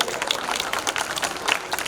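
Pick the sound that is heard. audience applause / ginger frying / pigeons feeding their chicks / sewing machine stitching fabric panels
audience applause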